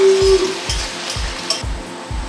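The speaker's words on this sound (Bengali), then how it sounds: "দেখুন পেঁয়াজও লাল লাল ভাজা হয়ে যাচ্ছে, আলুও ভাজা হচ্ছে, পেঁয়াজও ভাজা হচ্ছে।" Potatoes and onions fry together in a pan for egg pasta, a close, steady sizzle broken by regular scraping stirs about twice a second.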